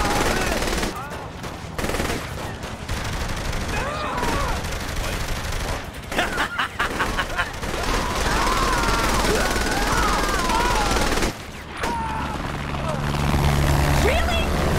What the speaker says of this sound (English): Really? A fucking attack chopper?